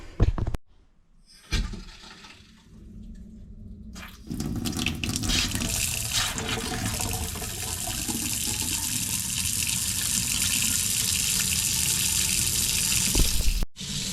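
Water rushes from a tap and back through household pipes after a couple of days without supply, refilling the toilets; a sputtering start gives way to a steady, loud, close gush that runs on without talk.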